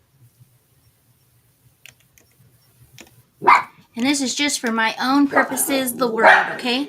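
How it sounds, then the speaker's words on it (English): A dog barks a few times in short yips early on, then a person starts talking and keeps talking over faint background noise. "sorry about my dogs, they get a little crazy"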